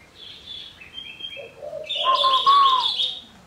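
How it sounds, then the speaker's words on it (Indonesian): Bird calls from a spotted dove, a few thin whistled notes early on followed by a louder, richer burst of tonal cooing phrases near the end, fairly close and clear with no talking. "burung itu jarang mengeluarkan suara lain selain menguku"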